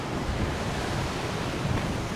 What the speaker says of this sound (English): Just look at the size of those waves smashing against the cliffs